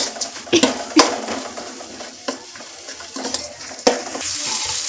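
Masala for masala rice fries in a pan while being stirred, with a steady hiss of oil and several scraping spatula strokes spaced unevenly.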